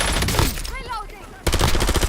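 Rapid automatic gunfire in a video game, loud bursts at the start, then a short gap with a brief voice-like chirp, then another dense volley of rapid shots.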